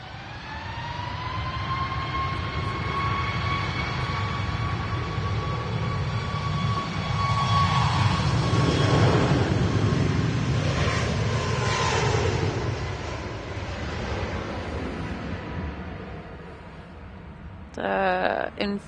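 An airliner's jets whine and rumble as it powers up for takeoff at Manchester Airport, a steady engine tone swelling to a broad roar midway, then easing, with a brief burst of other noise near the end.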